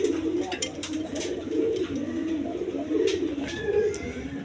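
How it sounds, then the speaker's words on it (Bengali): A pair of high-flying Giribaz pigeons coo softly and repeatedly, low murmuring calls close by over faint background noise. "এখানে এক পেয়ার আপনার গিরিবাস কবুতর আছে, হাই ফ্লাইং গিরিবাস কবুতর"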